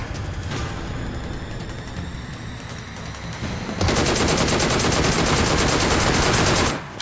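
Mobile video game gunfire on a gaming phone, loud and dense: continuous rapid shooting that swells into a heavier sustained barrage partway through, then cuts off abruptly, with no talk.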